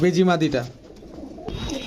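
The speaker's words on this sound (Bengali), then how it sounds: "পাকিস্তানি কবুতরে মাশাল্লাহ ভালো একটা কালেকশন আছে আজকে রবিন ভাইয়ের এখানে" A Pakistani pigeon coos close by at a pigeon shop, a short throaty rolling call that fades into soft rustling and background noise.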